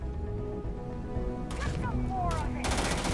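A Maelstrom gun fires in the sci-fi video game Starfield, with a few sharp, loud bursts over steady background game noise while someone talks.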